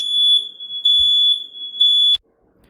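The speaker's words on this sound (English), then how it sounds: "someone must have taken a hot shower and steam came up and set the fire alarm off" A smoke alarm set off by steam from a hot shower shrills in loud, steady piercing beeps, three long tones with brief gaps between them before cutting out abruptly into silence.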